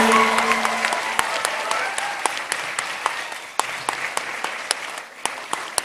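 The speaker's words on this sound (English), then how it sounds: "give yourselves a huge round of applause, guys" A convocation audience applauds the graduates with steady, dense clapping that rolls on throughout, sharp individual claps popping out over a continuous wash, tapering slightly toward the end.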